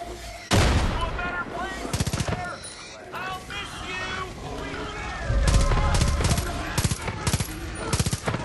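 Gunfire in the video game Far Cry 5, with sharp repeated bursts of shots and rapid automatic fire in clusters, loud and close, mixed with other game sounds.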